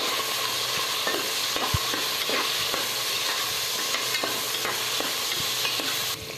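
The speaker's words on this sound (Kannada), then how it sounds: "ಹಂಗೆ ಕಟ್ ಮಾಡ್ಕೊಂಡಿರೋ ಈರುಳ್ಳಿ, ಟೊಮ್ಯಾಟೊ, ಮೆಣಸಿನ್ಕಾಯಿನೂ ಹಾಕಬೇಕು. ಸ್ವಲ್ಪ ಫ್ರೈ ಮಾಡ್ಕೋಬೇಕು" Onion, tomato and green chilli frying with cardamom and cloves in a pan, a steady broadband sizzle with repeated scrapes and clicks of stirring, close and even throughout, no talk.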